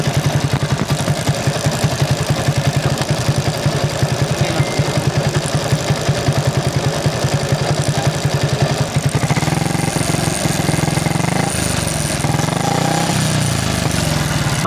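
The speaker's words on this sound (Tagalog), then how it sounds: "So may something na nangyari dito sa motor ko. Nag-iingay ng sobra." A faulty motorcycle engine idles loudly with a rapid, harsh clattering rhythm that smooths into a rougher drone partway through, heard up close.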